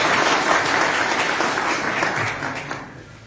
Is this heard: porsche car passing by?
no